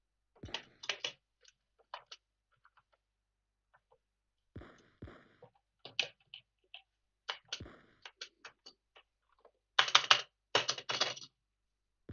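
Computer keyboard keys clack in short irregular clusters separated by quiet pauses, close and crisp, with a faster flurry of presses near the end.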